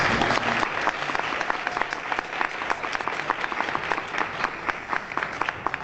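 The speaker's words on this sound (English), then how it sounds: "So give him a warm round of applause." Steady applause from an audience at a plaque dedication ceremony, dense, loud clapping sustained for several seconds with no pause.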